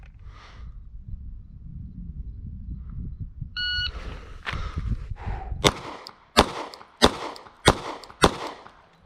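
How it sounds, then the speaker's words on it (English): A shot timer beeps at a range, then a Glock 48 pistol fires five sharp, loud, close shots in a quick, fairly even string, after quieter handling and shuffling sounds. "Starting on beep here for the first 5 rounds."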